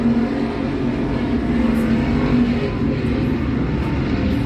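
Race cars, including the number 14 car, run around a speedway, giving a steady, loud wash of engine roar with no distinct pass-by.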